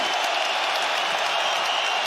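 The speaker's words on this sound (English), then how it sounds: "A standing ovation from the capacity crowd in Perth, Western Australia." Sustained applause and cheering from a capacity arena crowd in Perth, Western Australia, after a 25-minute fight between Islam Makhachev and Alexander Volkanovski, a steady, dense wash of clapping with no break.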